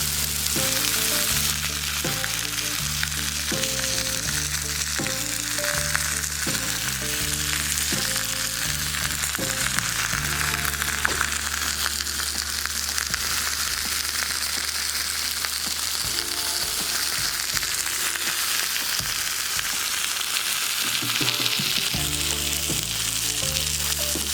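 A bone-in pork steak and Yukon Gold potato hash with jalapeño and bell peppers sizzle steadily on a flat top griddle. The frying is loud, close and continuous, with a low rhythmic hum running underneath.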